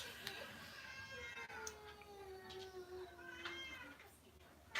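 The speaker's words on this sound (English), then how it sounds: "if there's a wailing cat in the background or not." A cat wails in a long, drawn-out, wavering cry that holds steadily at moderate loudness for several seconds, with no one speaking over it.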